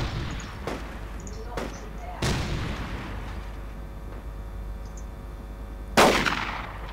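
Sniper rifle shots ring out in the tactical shooter game Project Reality: a handful of sharp, separate cracks spread over several seconds, with the loudest and closest shot near the end, over a low ambient rumble.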